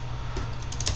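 Faint, quick keystrokes on a new computer keyboard during an accounting lesson, a few soft taps clustered near the end over a steady low hum, with no talking.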